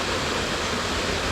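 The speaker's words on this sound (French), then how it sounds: "voilà à la cascade de Chicosa" Steady, dense roar of a waterfall in the Chicosa gorge among volcanic rocks in Auvergne, a continuous broadband rush of falling water heard close and loud without a break.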